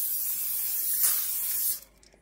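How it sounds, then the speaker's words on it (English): A continuous aerosol hiss of canola oil spraying onto a pan, steady and close for nearly two seconds, then cutting off to quiet. "I'm going to go ahead and spray the pan with the canola oil"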